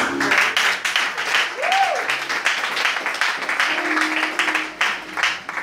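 A church congregation at a pastor's anniversary service claps and applauds steadily, dense and fairly close, while a voice speaks over the applause.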